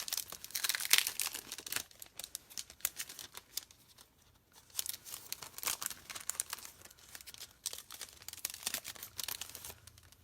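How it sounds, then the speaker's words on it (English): A card is cranked through a Stylish Scroll embossing folder, giving a close, continuous crackling and crunching that dips briefly midway before resuming. "this I'm going to run through that embossing folder"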